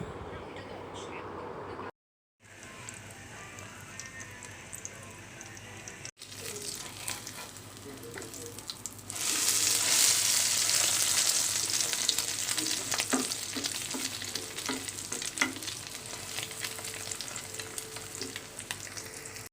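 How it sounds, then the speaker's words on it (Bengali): Egg with onion and green chilli frying in a pan, a steady crackling sizzle that swells louder midway and continues with scattered pops, with brief gaps near the start. "তো ডিম একটা ভাজা হয়েছে আর এটা হচ্ছে দেশি মুরগির ডিম"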